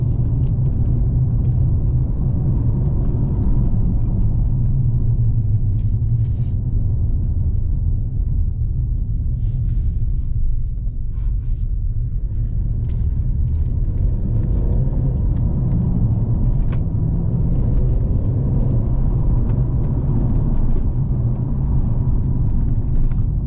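A 2024 Mercedes E300 launches from a race start on an empty, bumpy, curvy road, giving a continuous low engine and road rumble inside the cabin with little change in pitch.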